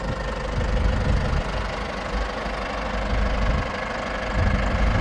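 A Case 995XL tractor engine idles nearby with a steady, rumbling, slightly knocking drone that stays fairly even throughout, with no one talking.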